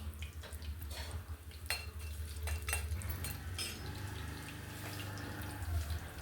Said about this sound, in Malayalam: അപ്പോൾ അതിലേക്ക് ഇനി നമുക്ക് മൂന്ന് പച്ചമുളകും കൂടി ഇട്ട് വഴറ്റിയെടുക്കുവാണേ